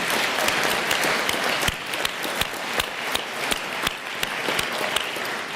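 An audience claps for future culinary arts students at an announcement event, a close, lively round of applause with sharp individual claps standing out and no talk.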